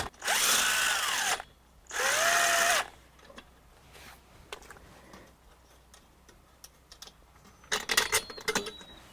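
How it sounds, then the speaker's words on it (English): A drill fitted with a socket wrench drives bolts on the ground-post bracing of a high tunnel greenhouse in an Alaska garden: two loud, close whirring bursts with rising and falling pitch, followed by quieter clicks and handling sounds. "we just use a socket wrench on the end of a drill"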